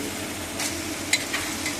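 Meat being stirred and fried with tomato in a pan, a brief steady sizzle with a couple of light scrapes of a spoon, close and moderately loud.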